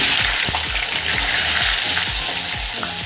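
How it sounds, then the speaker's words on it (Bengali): Potatoes frying in a hot pan of oil while cauliflower cooks nearby, a steady loud sizzle with a regular rhythm of low thuds from stirring, close and continuous with no talk. "এবার আলু কটা ভেজে নেব।"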